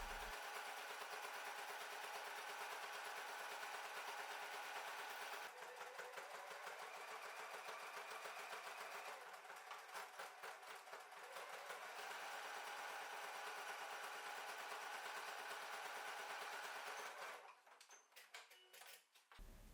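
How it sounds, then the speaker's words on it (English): A sewing machine runs a zigzag stitch along the raw edges of a small circle purse or keyring coin pouch, giving a steady, close, rapid mechanical whir that runs almost unbroken before tapering off near the end. "With a zigzag stitch, run along the raw edges to give your purse a neat finished look and to prevent fraying."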